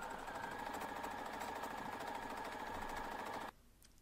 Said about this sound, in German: Bis zum Anfang der Naht nähen und ein paar Stiche darüber hinweg und die Naht verriegeln